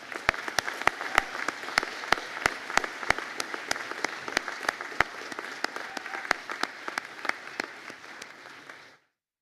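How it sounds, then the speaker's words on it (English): A graduation conferring ceremony audience applauds as a pharmaceutical science class stands; sharp, distinct claps ring out over a sparse room wash, steady for several seconds before cutting off abruptly. "to be upstanding for a round of applause"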